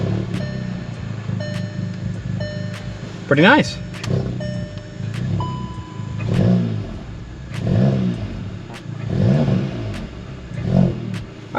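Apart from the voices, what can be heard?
car engine starting and revving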